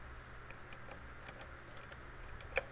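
Keys on a Gradiente model 246 audio unit are pressed one after another, giving faint, crisp mechanical clicks at an irregular pace in an otherwise quiet room.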